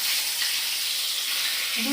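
Hilsa fish fries in a pan with a steady close sizzle and hiss, and a brief clink near the end.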